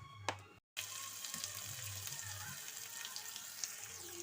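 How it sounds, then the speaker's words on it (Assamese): Onions fry in hot oil in a wok (kerahi), a soft continuous sizzle with light crackles and a short break near the start, faint and close with no talk. "ইফালে মই কেৰাহীখনত তেল দি লৈছোঁ। পিঁয়াজখিনি ভাজি ল'ম।"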